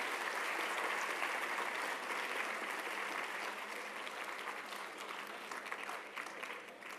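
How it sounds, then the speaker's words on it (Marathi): Students at the Vasundhara Sammelan environmental conference in Solapur applauding, a steady crowd of clapping that holds evenly for several seconds before tapering slightly, heard from a moderate distance without talk over it. "एकदा सगळ्या विद्यार्थ्यांनी टाळ्या वाजवून आपला उत्साह दाखवायचा आहे"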